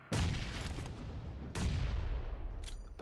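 Grenade explosions in the video game PUBG Mobile, two loud close blasts about a second and a half apart, each trailing into rumble, then a faint pop near the end.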